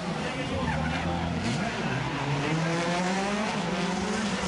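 A Subaru Impreza WRC and a Ford Focus WRC rally car race on a street stage around Monaco's harbour, their engines wailing and shifting pitch as they rise and fall, loud and continuous, with a voice talking over them.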